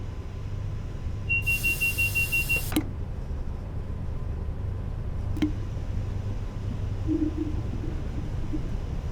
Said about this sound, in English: we had a guard buzzer. It can actually alternate between a whistle and a buzzer.